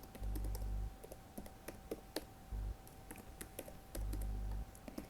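Rapid computer keyboard typing with sharp, irregular clicks and taps, fairly close, alone, over a steady low background hum.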